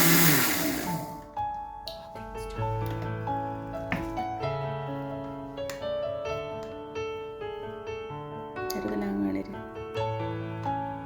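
A kitchen mixer grinder whirs steadily as it blitzes torn pieces of kubbus flatbread into crumbs, a fairly quiet, continuous motor drone with a brief louder burst at the start.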